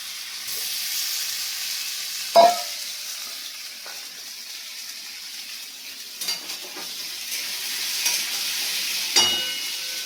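Boiled potatoes go into a pan of frying Bengali yam curry and get stirred. A soft, steady sizzle runs under faint scraping clatters of the spoon against the pan.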